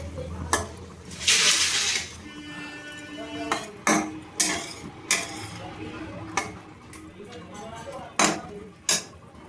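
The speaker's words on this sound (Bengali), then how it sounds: "এর মধ্যে আমি 1 চামচ বিরিয়ানি মশলা দিয়ে দেবো, দিয়ে ভালো করে নাড়িয়ে নেব" A metal spoon stirs biryani masala into boiled potatoes and soybeans in a cooking pot, giving sharp, irregular clinks and scrapes against the pot's sides, with quieter kitchen clatter between them.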